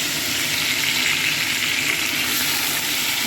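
Potato and vegetable pieces frying in hot oil with nigella seeds and green chili in a home kitchen, a steady, dense sizzle running unbroken throughout with a fan humming along behind it.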